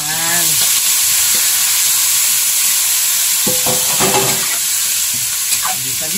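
Stingray being sautéed with black beans in a pan, a steady close sizzle and frying hiss running throughout, with brief stirring clatter partway through and no talk.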